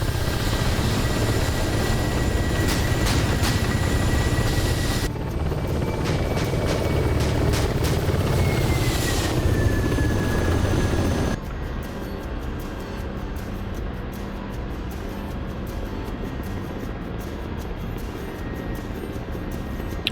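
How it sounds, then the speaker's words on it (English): An attack helicopter in a video game, its rotor and engine roaring steadily and loudly throughout while it comes down to land on a forward arming and refuelling point, with the tone shifting partway through and no talking. "I'm not going to be in that attack helicopter very much longer."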